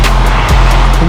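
A car pulling up gives a loud, close, low engine rumble with a slight tyre noise over about a second.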